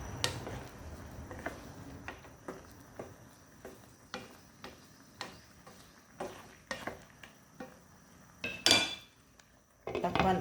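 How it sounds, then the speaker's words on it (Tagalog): Saba bananas being stirred in a cooking pot give off a run of regular clinks and scrapes of utensil against metal, about one every half second, close and moderately loud, with a brief louder clatter near the end and no talking. "Atong i-mix guys para magbalanse ang pagkaluto sa saging saba."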